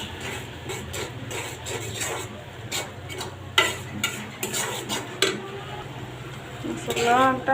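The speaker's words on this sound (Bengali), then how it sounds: "অনেক কষাই নিতেছি ভালো করে মশলাটা" Spice masala for chicken curry stir-fried in a pot, with steady scraping and clinking of a spoon over a low sizzle while a person talks.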